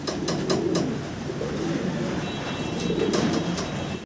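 A pair of fancy pigeons coo in soft, repeated low murmurs close by, with some background rumble and faint clicking.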